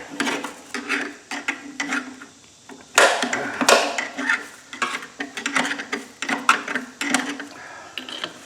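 Wood shredder being repaired, grinding a log into sawdust with irregular bursts of crunching and rattling mechanical clatter, loud and close, rising and falling in pulses.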